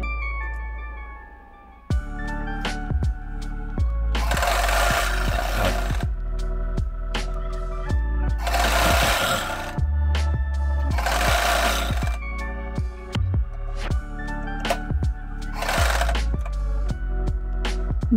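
A sewing machine stitching lace onto a kameez sleeve, running in several loud, whirring bursts separated by short pauses full of small clicks and handling noises.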